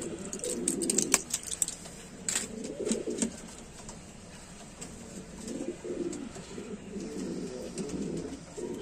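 Pet pigeons, two pairs just fed, coo in soft, throaty bursts that come and go several times, close by and moderately quiet, with a few small clicks and rustles between.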